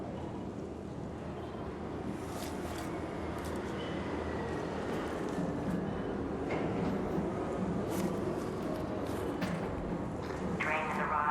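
A train pulls into a station in the video game Arc Raiders, a steady broadband rumble and rattle with a faint rising whine, continuous and fairly loud throughout, with murmuring voices blended into the background.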